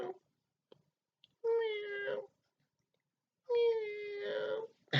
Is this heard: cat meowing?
yes